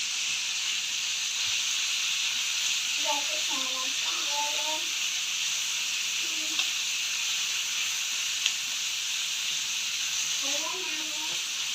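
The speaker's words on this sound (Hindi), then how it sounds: "इसका जब तक कलर चेंज ना होगा मैं इसको भूनती रहूँगी।" Coarse chicken keema fries in a pan for keema bhindi, a steady bright sizzle throughout with occasional stirring scrapes, while someone speaks softly over it.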